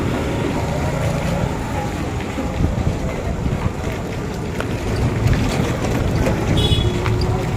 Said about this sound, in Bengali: বাইরে খুব সুন্দর হাওয়া দিচ্ছে